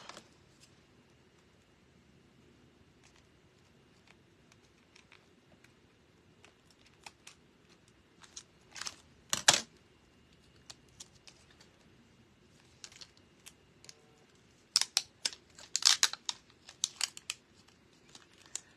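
Scissors snip through lace foam in short, crisp bursts, a loud cluster near the middle and another run of quick cuts toward the end, with quiet pauses between.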